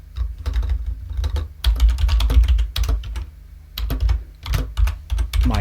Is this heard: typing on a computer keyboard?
yes